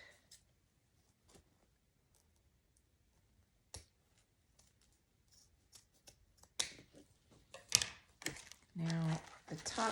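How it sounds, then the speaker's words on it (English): Scissors cutting Christmas ribbon: after quiet scattered clicks, a burst of crisp snips and rustling ribbon builds toward the end, close and fairly loud. "Now I'm gonna cut."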